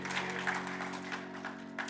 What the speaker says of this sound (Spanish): Dale un aplauso fuerte al Señor porque Él es bueno